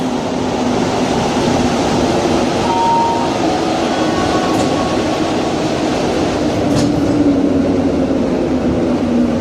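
A Montreal metro train, an Azure model, rumbles steadily into a station, loud and close, with a continuous low roar and hum, faint squeals and clicks rising near the end.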